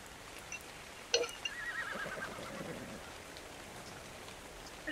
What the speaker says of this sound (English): Hello, horses.